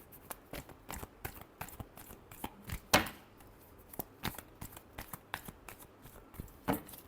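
Tarot cards shuffled in the hands, a rapid run of crisp riffling snaps with one louder slap near the middle, close and alone with no talk.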